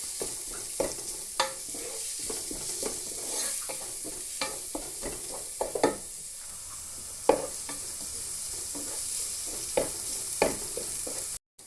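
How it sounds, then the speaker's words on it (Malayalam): Onions and spices stir and fry in a pan for a Kerala fish curry, with a steady sizzle under repeated scraping strokes of a spoon, close and moderately loud, with no talking. "ഇത് നന്നായിട്ട് മിക്സ് ചെയ്തിട്ട് ഇതൊക്കെ മൂക്കുമ്പോൾ നമുക്കൊരു സ്മെല്ലറിയാമല്ലോ"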